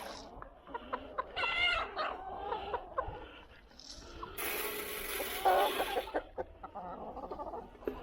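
Chickens clucking and squawking at feeding time as grain is scattered for hens and ducks on a small farm, with close, busy bird calls, a dog-like bark and a brief loud rustle partway through.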